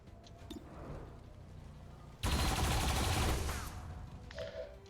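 Automated turret gunfire in a modded Overwatch game session, a dense rattling burst that erupts loudly midway, holds for over a second, then tapers off into quieter background game noise.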